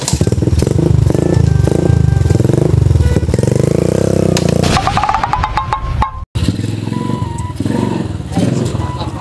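A motorcycle engine runs loud and close with a steady rumbling drone that shifts and revs partway through, with rattling and a few faint voices in the background.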